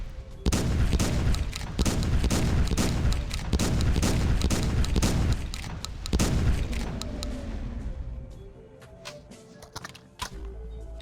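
Heavy, rapid gunfire of venom rounds pummels an Ashkaseratops dinosaur in the Carnivores hunting game, a loud continuous barrage for several seconds before tapering into scattered quieter sounds, no voices.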